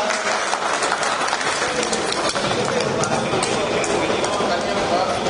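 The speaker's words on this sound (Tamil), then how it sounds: "அவங்களுக்கு ஒரு கைத்தடலாம்" A crowd at a 1994–97 college alumni reunion in Tamil Nadu breaks into sustained, dense applause that stays loud and even throughout, with murmuring voices mixed in.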